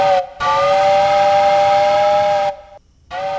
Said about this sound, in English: You hear the train whistle, right? That's really high pitched.